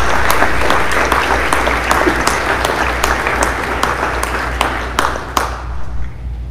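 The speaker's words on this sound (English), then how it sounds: "Let's give these guys a round of applause." An audience at a school awards evening for juniors and seniors applauds steadily, with dense, sustained clapping and a few sharper individual claps standing out before it thins toward the end.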